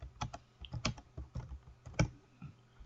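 Keystrokes on a computer keyboard, a run of irregular close clicks and taps with uneven rhythm, moderately quiet with no voices.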